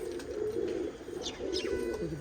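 Pigeons in a loft coo in low, steady murmurs, with a few brief higher chirps over a continuous close hum of birds.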